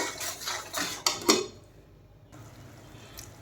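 A utensil scrapes and clinks against a pan while pointed gourd curry with chili powder is stirred, a few quick metallic knocks followed by a soft sizzle.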